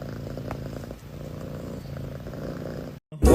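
A cat purrs close up in a steady, rumbling rhythm for about three seconds before a brief silence and a sudden loud noise at the end.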